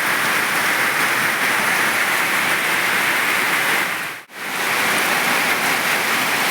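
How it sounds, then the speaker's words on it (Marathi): Heavy rain pours down in a steady, dense roar, with a brief near-silent dropout partway through before the downpour resumes. "एवढा पाऊस पडतोय भरपूर"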